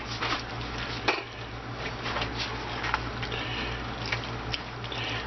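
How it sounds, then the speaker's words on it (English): Spicy hot sausage with peppers and onions is stirred in a pot, with soft steady scraping and clinking of a utensil against the metal, a sizzling bed underneath and a low hum throughout. "as I stir it up, bring this up to heat"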